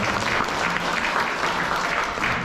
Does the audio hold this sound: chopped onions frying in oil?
no